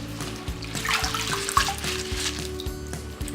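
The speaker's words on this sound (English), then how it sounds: "shake all the excess water out" Washed kale leaves shaken over a sink to throw off the excess water, a wet splashing and dripping that runs steadily at close range with no talk.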